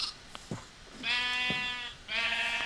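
Sheep in the Minecraft video game give two drawn-out, tonal bleats, each about a second long, alongside a few soft clicks and taps, fairly quiet and without talk.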